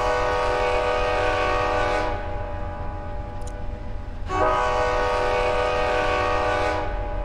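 In the Rails Unlimited Classic train game, a Seattle Wave train sounds its loud horn at a station in two long blasts, the second starting after a short gap, over a steady rumble of rail noise.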